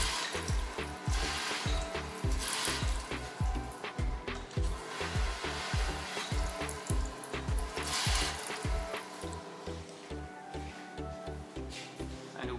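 Water running from an old-style bucket tap in a Dubai venue, a continuous splashing flow heard over a steady thumping rhythmic beat of background music.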